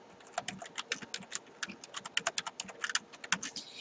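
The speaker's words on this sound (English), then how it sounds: "let's just kind of type that out." Keys clatter on a computer keyboard in quick, uneven bursts of clicks, close and fairly quiet, with no talking.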